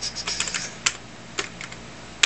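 Quick, close keystrokes on an Amiga computer keyboard during an AmigaOS Workbench 3.9 install, a short irregular run of crisp clicks and thocks over faint background hum.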